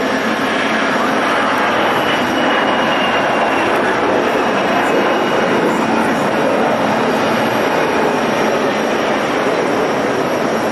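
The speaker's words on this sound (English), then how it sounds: "It's a quite common airplane" A common airliner passing at Zurich Airport, a loud, steady broadband engine roar that holds at full strength for about ten seconds with no one talking.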